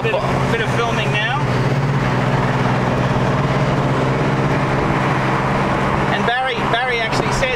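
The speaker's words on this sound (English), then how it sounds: "that's a fuel injected engine note" A fuel-injected engine on a Mercedes-Benz 230SL Pagoda W113 convertible driving with the top off, heard as a loud, steady engine and road drone mixed with wind rush that continues without a break.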